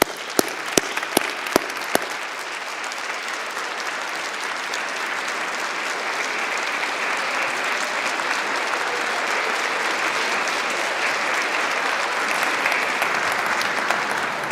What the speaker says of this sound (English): for us to congratulate and applaud them